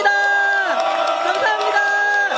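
Party members at a political rally in Korea clap and cheer, a loud, close crowd noise with shouted voices ringing over it for a couple of seconds.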